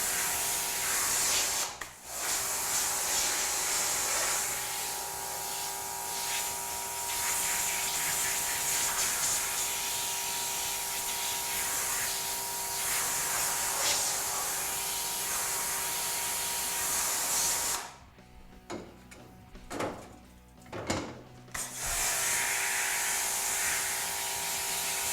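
A small 1000–1200 psi pressure washer sprays a screen printing screen to clear stuck emulsion during ink cleanup: a steady, close, broadband hissing spray that runs almost continuously, briefly cutting out near the start and stuttering on and off near the end.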